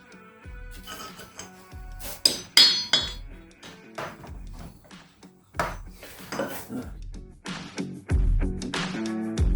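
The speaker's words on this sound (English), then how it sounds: "Get a hammer and you want to find the notch on the axle nut" Sharp metallic hammer strikes ring out one after another at an irregular pace, close and loud, with clinks and clatter between the blows, as a hammer dents the axle nut on a 2006–2013 Toyota Camry.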